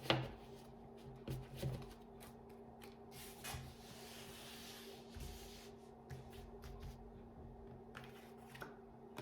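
Tarot cards are shuffled and drawn on a table in quick papery riffles and soft slaps, close but faint, with a few louder flicks and no talk.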